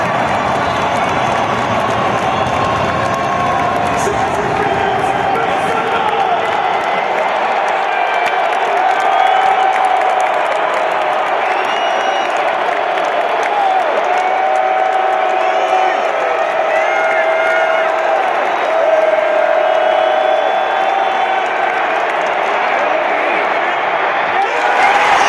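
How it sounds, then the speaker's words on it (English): An NFL stadium crowd roars on third down, a dense sustained wall of cheering, whooping and clapping that stays loud and steady for the whole stretch, with voices talking nearby. "here's the loudness of the crowd on third down"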